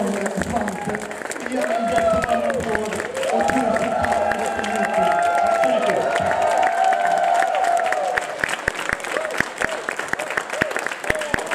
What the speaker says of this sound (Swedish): Det är en jättebra applåd.